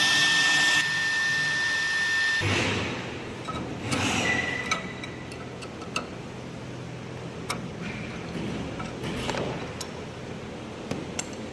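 A 1325 CNC router with a 4.5 kW HSD spindle cutting and engraving an MDF sheet: steady high spindle whine and airy cutting noise, dropping in pitch after a couple of seconds, with scattered sharp ticks and clicks over the hum.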